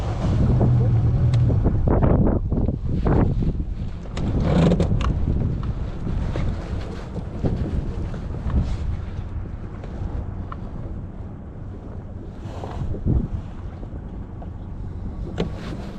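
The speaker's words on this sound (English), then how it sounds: "Oh, that wind isn't very good, is it?" Wind gusts buffet the microphone on a power boat out on the water, loud rumbling bursts that ease into a steadier blow, with occasional thumps and a voice now and then.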